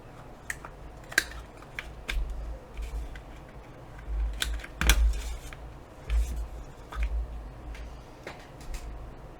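A corner rounder or scissors trims the corners of a paper portfolio piece, making scattered sharp snips and clicks over a low background rumble, close and moderately quiet.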